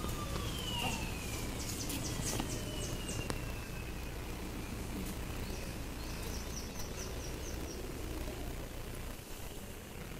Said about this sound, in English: sirens heralded the final drive past his beloved Spice Island Beach Resort